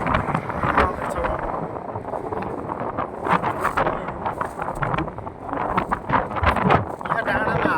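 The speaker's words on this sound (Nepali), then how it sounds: "यहाँ डाँडामा हावा फेरि यति चल्छ नि, लास हावा चल्छ कि फेरि यहाँनिर मान्छे उडालो जस्तो हावा चल्छ यहाँनिर है।" Loud gusting wind on a hilltop ridge, a continuous roaring rush buffeting the microphone with surges throughout, while someone talks over it.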